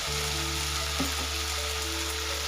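Okra frying in a pan as cumin goes in, a loud, steady close-up sizzle with a brief stir partway through and no talking.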